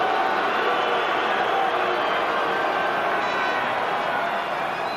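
A large rugby crowd at a 1995 World Cup match between Scotland and Tonga roars and jeers at the referee, a dense, loud wall of stadium noise that carries on without a break.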